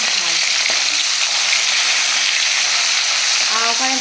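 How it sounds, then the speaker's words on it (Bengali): Bata fish curry sizzles loudly in a pan, a dense continuous frying hiss held up close, with a brief voice speaking over it near the start and again at the end. "এখানে আমাদের হচ্ছে বাটা মাছের ঝাল"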